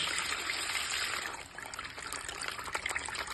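A SHYSKY DC40F-2460 micro brushless DC water pump runs submerged underwater, giving a steady, soft hiss of churning, trickling water with a faint even texture and no talk.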